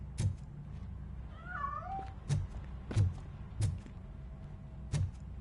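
Cat in a video game giving one short mewing cry amid a series of sharp, evenly spaced thumps or knocks, fairly faint over a low background hum.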